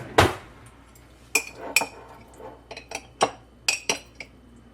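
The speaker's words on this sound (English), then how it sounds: "So let me just grab a clean spoon." A clean spoon pulled from among cutlery, a string of bright metallic clinks and rattles, one loud clatter followed by several lighter chinks in quick irregular succession, near and without talking.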